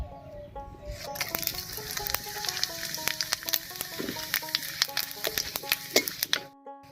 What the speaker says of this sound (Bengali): এবার মাছ ভাজার এই তেলের মধ্যেই ফোড়ন দেব